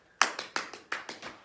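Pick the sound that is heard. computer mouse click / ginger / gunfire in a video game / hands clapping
hands clapping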